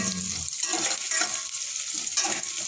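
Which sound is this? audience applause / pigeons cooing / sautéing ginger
sautéing ginger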